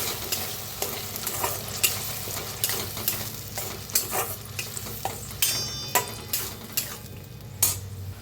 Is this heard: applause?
no